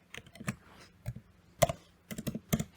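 Quick, light keystrokes on a computer keyboard come in irregular bursts with short pauses between them, close and fairly quiet.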